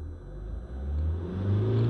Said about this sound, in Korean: 엔진 소리 한번 들어볼까요?